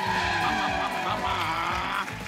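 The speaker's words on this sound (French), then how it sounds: "C'est un buggy de rallycross entièrement sur roulement avec transmission 4 roues motrices." A remote-controlled four-wheel-drive rallycross buggy skidding, its high motor whine and tire scrub blended with crowd noise and voices from a TV game show studio.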